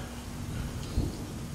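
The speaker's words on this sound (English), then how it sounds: "You like that rain, huh?" Steady rain falls with a brief low thunder rumble near the one-second mark, in an outdoor enclosure where giant tortoises graze on wet grass.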